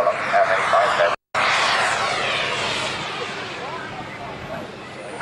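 A radio-controlled model airplane engine at an outdoor airshow drones loudly and steadily with a buzzing whine, briefly cut off, then continuing under faint talk.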